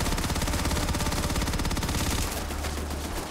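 Gunfire in the video game Starfield: a dense, loud, unbroken run of rapid automatic shots, then lighter, more scattered firing over a low hum near the end.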